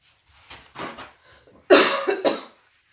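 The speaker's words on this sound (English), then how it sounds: "my cough is still not going away" A few soft, muffled coughs come first, then a louder close burst of harsh coughing that fades into silence.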